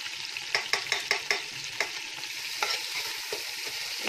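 Chicken frying in a pan with ginger garlic paste for biryani, steady sizzling hiss broken by repeated scraping stirs, close and moderately quiet, no talking.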